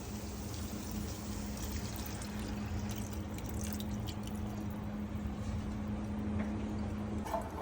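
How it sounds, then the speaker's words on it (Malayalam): Squeezed coconut milk pours into a pan for pearl spot fish pollichathu and is stirred, making a steady, close, continuous liquid rush with a faint low hum beneath and no talking. "ഇതിനകത്തേക്ക് നമ്മൾ പിഴിഞ്ഞ് വെച്ചേക്കുന്ന തേങ്ങാപ്പാൽ ഒഴിച്ചിട്ട് നല്ലോണം ഇളക്കി കൊടുക്കണേ"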